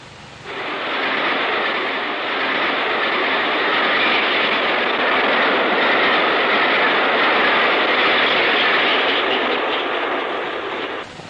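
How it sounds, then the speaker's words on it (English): Diesel-electric locomotive hauling the down Thames Clyde express out of a tunnel on a long climbing grade: a loud, sustained engine roar and rumble of the train, steady throughout, fading slightly at the end. "to see the down Thames Clyde emerge from it, a sight and a sound which provided ample evidence of the modern diesel-electric locomotive's capacity to cope"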